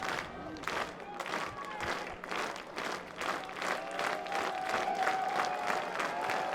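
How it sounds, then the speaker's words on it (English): A large baseball crowd claps in a fast, steady rhythm, with cheering and chatter underneath and a commentator talking over the top. "Getting the fast clap from the crowd."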